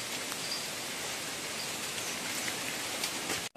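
Steady rain falls on an island fishing spot, a dense, even hiss of drops pattering continuously at moderate level with no voices.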